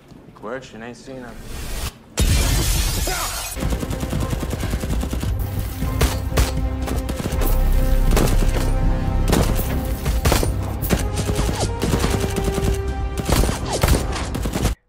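A firefight between prisoners and rebels at an office front room: sustained bursts of automatic gunfire and rapid shots, loud and dense for many seconds, with voices talking over the shooting.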